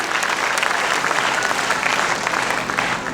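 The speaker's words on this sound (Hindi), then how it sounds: "Can we have a round of applause for them?" An audience gives sponsors a round of applause at a tribute concert in Ahmedabad, steady, full clapping from a large crowd that carries on evenly throughout.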